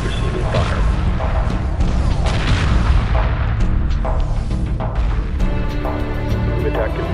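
Dense space-combat weapons fire in Homeworld 2 Remastered: a constant barrage of booming shots and crashing impacts, loud and unbroken, with radio chatter from fleet units mixed in.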